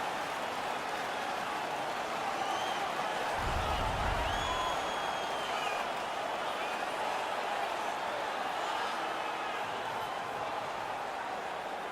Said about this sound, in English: The home crowd is ecstatic. They're making all kinds of noise.